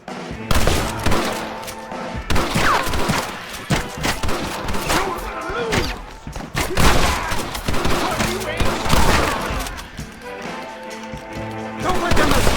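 Gunfire in the Red Dead Redemption video game on PC crackles in dense, loud volleys of overlapping shots and bursts that continue throughout, with faint voices mixed beneath.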